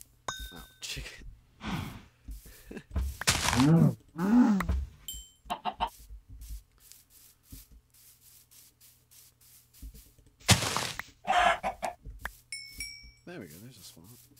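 Chicken clucking in the Minecraft video game, a few short clucks rising over quiet game ambience among other sparse game sounds.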